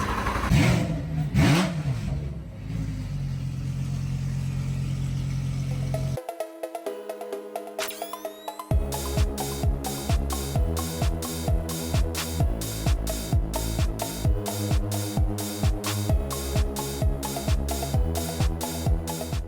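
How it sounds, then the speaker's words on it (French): A modified car at a car show: the engine starts and idles rough, then drops away before a loud, choppy, rhythmic idle with a hard, pulsing exhaust, close and continuous. "Je crois qu'il va faire un petit cold start."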